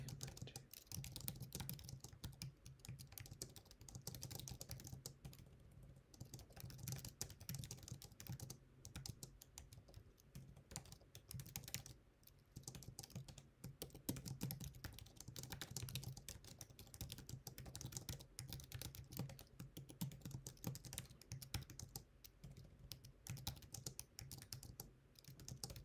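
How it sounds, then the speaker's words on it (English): Steady typing on a computer keyboard while a prompt is entered, a continuous quiet patter of keystrokes lasting the whole stretch at an even, fairly fast pace with no talking. "I'm gonna type and not talk"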